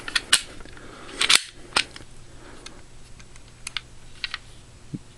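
A Glock 27 pistol is snapped back together, with a handful of sharp metallic clicks and clacks from slide and parts, close and crisp against a quiet background, with no talking.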